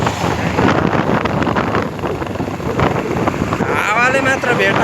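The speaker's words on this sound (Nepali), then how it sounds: "हावाले मात्र भेटाए पनि बाइक नै उछुट्याउँछ जस्तो लाग्छ" Strong wind buffets the microphone while riding a motorbike on a road, a loud continuous roar with gusty surges throughout and no clear voices.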